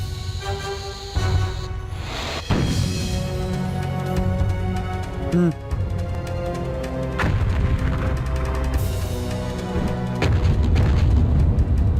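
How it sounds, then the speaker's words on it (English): Repeated heavy booms from a cannon in a Jackie Chan Adventures video game ring out over continuous music and sound effects, each blast sharp and loud. "Now you just need to light the cannon."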